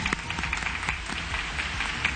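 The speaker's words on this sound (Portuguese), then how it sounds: "Daniela do Arruda e Danilo, uma salva de palmas para eles!" Faint, distant applause from an audience in a hall, a soft continuous patter of many hands clapping for a couple of seconds with no talking.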